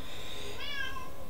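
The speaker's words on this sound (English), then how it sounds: "Meow!" A house cat meows twice, short rising then falling cries, fairly faint and close against a quiet room hum, with no talking.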